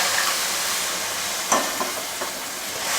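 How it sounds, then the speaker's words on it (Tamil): Masala sizzles in hot oil while tamarind water is added for a fried fish curry, giving a steady bright frying hiss with a few soft stirring clicks and scrapes partway through and no talking. "மசால் போட்டு எண்ணெயில் இந்த மாதிரி நல்லா வதக்கிட்டு புளி சேர்த்துக்கலாம்."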